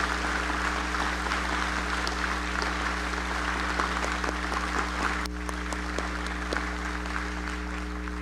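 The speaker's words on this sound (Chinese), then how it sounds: "我要请现场嘅好朋友用最热烈嘅掌声，再一次俾防疫英雄满满嘅感谢" Applause from the audience at the 109th National Day celebration of the Republic of China, a steady sustained clapping over a constant low hum, continuing for several seconds without any talking.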